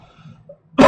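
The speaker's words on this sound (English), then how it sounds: "this lingering cough is still annoying" A single abrupt lingering-illness cough bursts out at the very end after a low, quiet background hum, loud and close.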